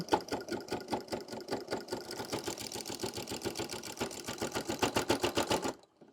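A sewing machine runs steadily through fabric for a DIY bag, a fast even train of needle strokes sustained close up for several seconds before it stops abruptly.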